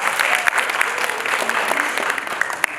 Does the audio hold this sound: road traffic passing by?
no